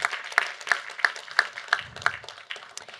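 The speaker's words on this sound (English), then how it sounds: "Please, a little applause for this beautiful work that they're doing." Scattered hand claps from a festival audience come in a loose, thin rhythm of roughly evenly spaced individual claps, moderately close, with no one speaking over them.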